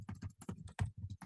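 Quick, light keystrokes on a computer keyboard, typed in an irregular rhythm of close, crisp clicks with brief pauses.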